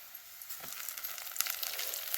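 A piece of dried salted surmai fish dropped onto frying onions in a pan, producing a faint, soft sizzle and crackle that builds slightly over a couple of seconds, with no voices.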